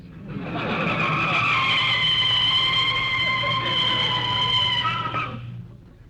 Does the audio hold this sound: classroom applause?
no